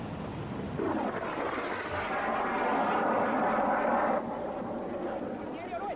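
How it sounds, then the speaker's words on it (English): Sea Harrier jet fighters roar overhead during an airstrike on the airfield at Port Stanley, a loud swelling jet rumble that builds and then cuts off, with a voice over it. "the Harriers began their first airstrike against the airfield at Port Stanley, now in Argentinian hands"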